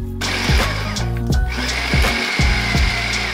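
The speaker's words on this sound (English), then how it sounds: "The finer you can grind it down here, the smoother the final acar texture." A kitchen blender or grinder pulverising spice paste ingredients for Sarawak acar, heard as a loud motor hum with rhythmic chopping pulses about twice a second and no voices.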